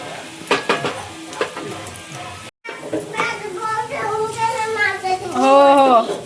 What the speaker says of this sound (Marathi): आता त्या कांदा फ्राय झाला चांगला.